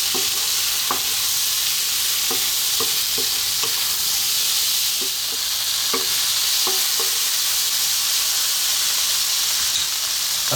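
Smoked fish kedgeree is stirred in a pan over slightly-above-medium heat, giving a constant hissing sizzle broken by irregular scraping knocks from the spoon.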